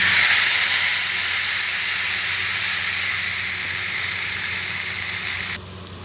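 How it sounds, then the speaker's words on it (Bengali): A paste of ground cashew, sour yogurt, ginger and green chilli hits a hot pan for a patol curry, setting off a loud, steady steamy hiss and sizzle that eases slightly before dropping off abruptly near the end, with no talk. "এবার আমি বেটে রাখা কাজু, টক দই, আদা, কাঁচা লঙ্কা যেটা বেটে রেখেছি, এটাকে আমি ঢেলে দেবো।"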